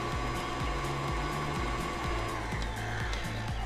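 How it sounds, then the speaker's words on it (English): An electric hand mixer whirs steadily through sugar cookie dough with eggs, its motor buzzing close and continuous, broken by a faint rhythmic thumping as the beaters turn in the bowl. "I've got my 3rd egg again, and I'm just gonna mix it up a little bit more."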